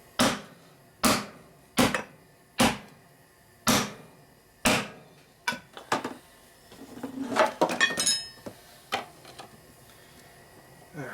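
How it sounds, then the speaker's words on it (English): Hammer tapping a 1950s 15-inch steel split rim to free the tire: about seven evenly spaced sharp metallic knocks, then a busier stretch of clanks and scraping from the tire work, close and clear with no talking. "Touch it with the hammer to free it up."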